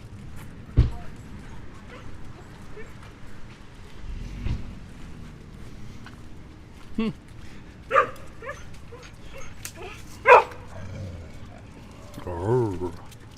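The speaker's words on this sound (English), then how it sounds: "The doggies have found a friend." Dogs at a coffee spot give a few scattered short barks and whimpers, with sharp yips rising over a low background of nearby chatter and café noise.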